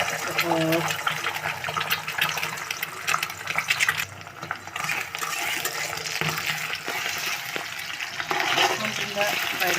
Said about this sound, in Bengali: এখন ডিমটা ভাজবো।